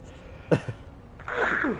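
A single sneeze, a short sharp burst, followed after a brief pause by a voice speaking close to the microphone.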